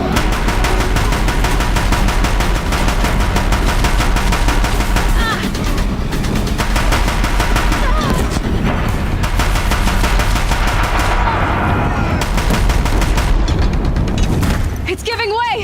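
Gunfire from Deathbringer war machines in Horizon Zero Dawn, at a bridge in Meridian. Loud, dense bursts of shots and booms run throughout, layered with other game sound and no clear pauses.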